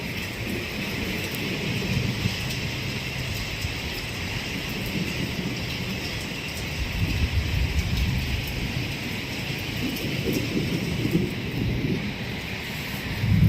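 A heavy rainstorm with wind pours steadily outside a house, a dense continuous hiss with gusty low rumble swelling slightly midway, no speech.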